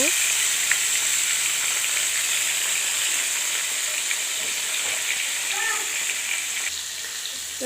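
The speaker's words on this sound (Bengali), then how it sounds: "এইভাবে মাছগুলাকে নুন হলুদ মেখে ভেজে নেব" Fish pieces rubbed with salt and turmeric fry in oil with a steady, close, hissing sizzle and a few light pops and stirring touches throughout, and no one speaks.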